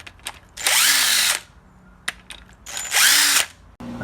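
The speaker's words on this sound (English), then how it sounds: "So I just drilled some holes to make it bigger to fit those bolts in." A power drill bores holes through a metal conduit strap in two short, loud, close bursts, each spinning up and winding down, with quiet handling clicks in between.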